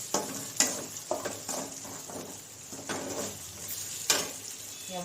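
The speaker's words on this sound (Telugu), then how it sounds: "ఫస్ట్ కదిలిచ్చేసి" A spoon stirs vegetable biryani curry with ginger paste in a sizzling pan, several distinct scraping strokes over gentle frying, close and fairly quiet with no talk.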